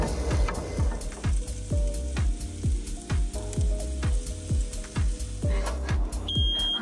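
Smoke alarm beeps in a repeated rhythm while Beyond Meat burgers fry and sizzle on a campervan stove, with sharp periodic clattering running steadily through the whole stretch, fairly loud and close with no talking.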